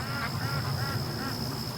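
Domestic duck quacking loudly and close in a steady run of harsh, repeated calls over about two seconds, with no talk.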